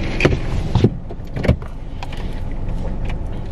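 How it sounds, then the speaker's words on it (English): A car's power windows whir down, with a few clunks and thumps at the start before the motor drone carries on steadily. "Oh, he put down his windows."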